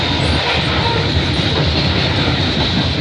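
A CN freight train hauled by CSX and Union Pacific locomotives rolls past at Burlington Junction on a rainy day, giving a loud, steady, close rumble and wheel noise for the whole stretch, with no talk.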